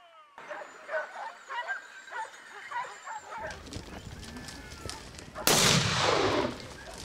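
During a boar hunt in Encinasola, dogs bark and yip excitedly, then a single loud gunshot cracks nearby and echoes away through scrubland.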